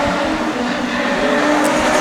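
Production sedan race cars roar past on a circuit with a dense, continuous engine drone that holds steady and loud for the whole stretch.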